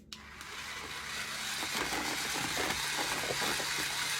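Electric mixer whirring through a low sugar Butterfinger protein pudding with Skinny Mixes peanut butter cup syrup, a steady motor hum building after a brief start and running continuously, close by.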